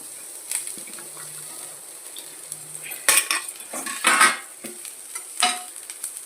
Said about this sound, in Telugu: ఆయిల్ పోసుకొని ఇలాగ అప్లై చేసుకొని ఇప్పుడు ఆనియన్ వేసుకోవాలి